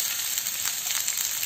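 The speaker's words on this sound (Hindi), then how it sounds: "प्याज का कलर चेंज होने तक उसको भून लेंगे" Sliced onions sizzling in a pan with garlic, ginger and green chilli, a steady close frying hiss with soft crackle and no talk.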